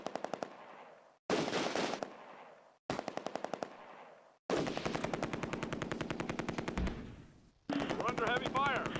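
Automatic gunfire in the Close Combat A Bridge Too Far war game, set at Nijmegen Bridge and Valkof Park, comes in several loud, rapid machine-gun bursts separated by short pauses, with the last bursts longer and denser.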